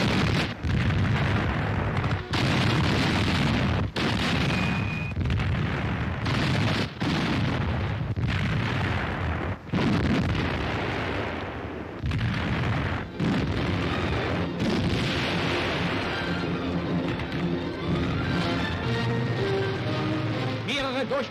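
Heavy, continuous battlefield din of artillery fire from self-propelled guns supporting an infantry assault under enemy fire in 1944 wartime, with repeated booms and blasts over a dense rumbling roar, loud throughout with brief sharp cuts.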